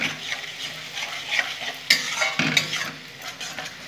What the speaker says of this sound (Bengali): 1 চামচ আদা আছে, 1 চামচ রসুন আছে, দিয়ে দিলাম। এটাও খুব সুন্দর করে ভালো করে কষে নেব পেঁয়াজের সাথে।